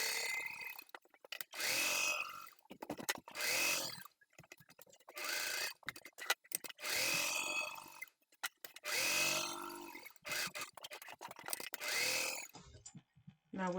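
Sewing machine stitching fabric for a DIY travel kit, several bursts of rapid whirring stitching separated by short pauses, close and clear.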